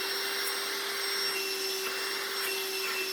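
A vacuum cleaner bought at Walmart runs steadily with strong suction, heard as a loud, constant close-up whine with a fixed tonal hum throughout and no voices.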